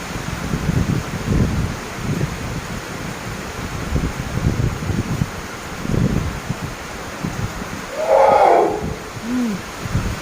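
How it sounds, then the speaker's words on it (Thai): Strong wind gusts outdoors, rumbling and buffeting the microphone in uneven loud surges, with a brief higher cry or squeak near the end. "ลมแรงมาก"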